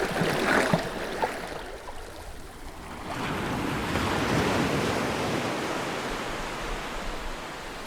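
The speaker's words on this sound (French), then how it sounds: "la mer occupée à s'agiter et à murmurer pour elle-même" Sea waves wash and churn steadily off the coast of Ostia, a broad continuous rush with wind buffeting the microphone and swelling slightly partway through, with no voices.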